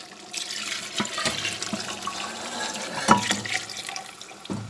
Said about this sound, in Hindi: अब पानी डालने का वक्त आ गया है और अब हम इसमें पानी मिलाते हैं